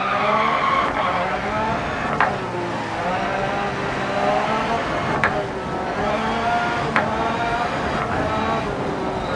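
Rally car in the video game Dirt Rally VR, its engine droning steadily with harmonic revs rising and falling and tires skidding through turns, loud and continuous for the whole stretch.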